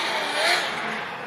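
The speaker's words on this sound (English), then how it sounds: "I can hear the V8 Hyundai Genesis of Odi Bakshi's" A V8-swapped Hyundai Genesis Coupe drift car revs hard at a Formula Drift competition in Irwindale, a loud, broad roar heard from a distance that swells briefly and then holds steady.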